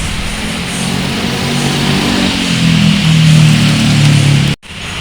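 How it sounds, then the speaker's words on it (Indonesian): The Singasari passenger train on the Blitar–Pasar Senen route passes close by near a station, a loud, steady low rumble with droning engine tones that swell slightly before cutting off abruptly near the end. "itu ada kereta api Singasari ya dengan relasi Blitar Pasar Senen."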